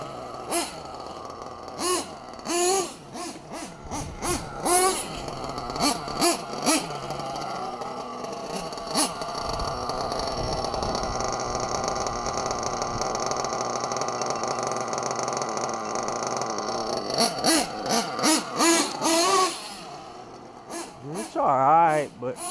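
Novarossi nitro engine on a Losi 8ight RC car with a milled carb and sealed back plate, revving in sharp, buzzing high-pitched bursts, then holding a sustained wail before more short blips, close by, with people talking in between.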